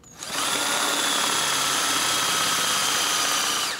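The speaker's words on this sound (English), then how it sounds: "We're going to drill our 3/8 holes right here on either side." A power drill bores 3/8 inch holes into a workpiece on a table, spinning up quickly and then holding a loud, steady, high-pitched whine throughout.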